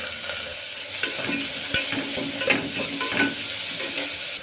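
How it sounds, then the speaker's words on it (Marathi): Onion sautéing with pumpkin and other vegetables in a pan for vegetable khichdi, a steady close sizzle broken by occasional stirring scrapes and clinks. "कांदा चांगला परतला आपण दुसरे भाज्या टाकून घेऊ भोपळा"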